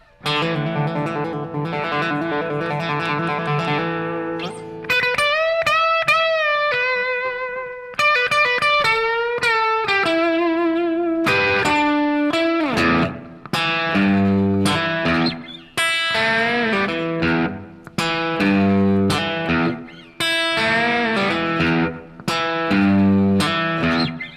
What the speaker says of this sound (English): plugged into a 67 Fender Bassman, just then a little bit of reverb and a small distortion pedal